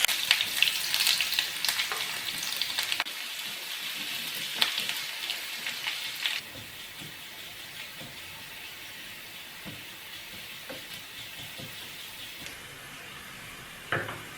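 Chopped onions frying in a pan for a vellarikka pachadi, a steady close sizzle that is busier at first and then settles into a softer, even hiss with occasional stirring scrapes, no voices.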